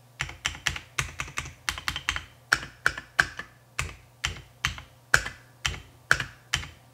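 Close, crisp clacks of keys on a KiiBoom Phantom 81 mechanical keyboard, typed in quick uneven bursts with brief pauses and no talking.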